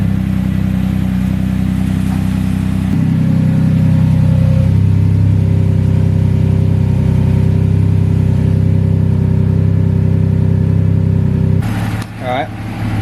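A 2008–2016 Audi S4 B8 with newly fitted IE downpipes drives with its engine droning loudly and steadily, then revving harder midway, and a person talks over the engine noise.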